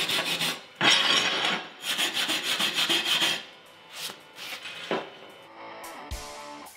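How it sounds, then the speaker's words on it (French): A wire brush scrubs over a weld bead after slag removal, in rapid rhythmic rasping strokes that come in bursts with brief pauses, close and fairly loud, with no talking. "je vais brosser la soudure"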